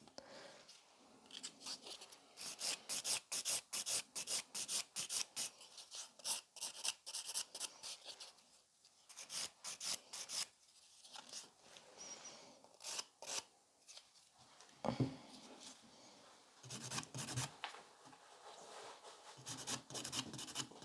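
A 100-grit nail file debulks gel nails in quick, rhythmic rasping strokes, close up and fairly quiet, with brief pauses between bursts.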